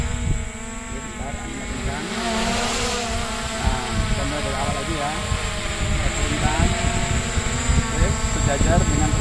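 An SJRC F11S drone hovers and descends in strong wind, its propellers giving a steady high-pitched whine with wavering tones, close by, while someone speaks over it.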